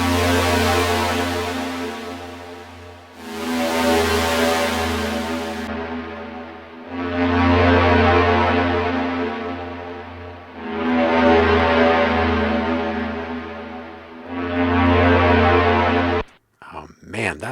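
An acid techno loop pulses with a thick bass line and repeating synth phrases in bar-long chunks, the top end cutting in and out as it shifts into a gritty, bitcrushed distortion near the end, with no talking over it.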